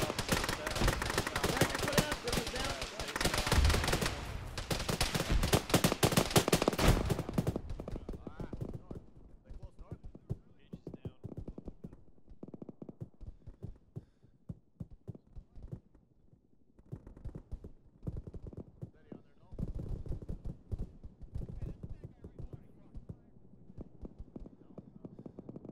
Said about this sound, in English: We got them firing on us on the southwest side.